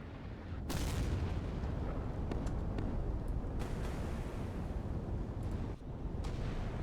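Heavy naval guns boom repeatedly in the Sea Power battle of Jutland, a dense, loud rumbling barrage with several sharper bursts standing out over continuous low roar, no voices.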